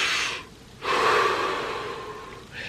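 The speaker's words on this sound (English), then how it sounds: "a deep breath is something like," A person takes a deep breath: a short exhale, a pause, then a long, loud, airy inhale followed by a softer breath at the end.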